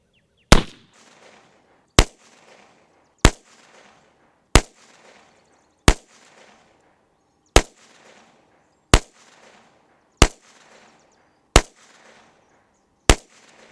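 Rifle firing Fiocchi .223 55 grain ammunition at 50 yards from a chrome lined barrel: ten sharp, loud single shots at a slow, even pace about every second and a half, each with a short echoing tail.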